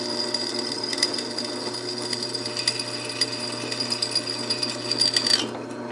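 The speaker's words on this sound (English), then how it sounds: "At least we can drill through it." A power drill grinds steadily through hard forged steel, a continuous whining bite with a high shrill tone and small rattling fluctuations, stopping abruptly near the end.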